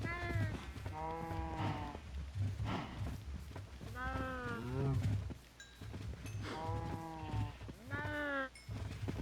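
Several drawn-out Minecraft cow moos repeat over a steady background hum, fairly close and clear, with short pauses between calls.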